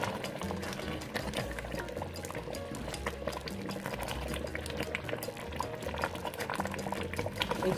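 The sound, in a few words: egusi soup boiling and bubbling in pot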